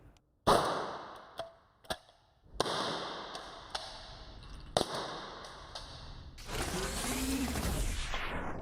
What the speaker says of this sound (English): I'd come up on target, take the safety off, and then shoot.